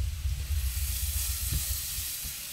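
Seasoned celeriac sautés in a pan with salt and pepper, giving a steady, soft sizzle with a brief stir partway through.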